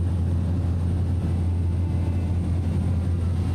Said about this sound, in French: Et ça, c'est un petit hélico.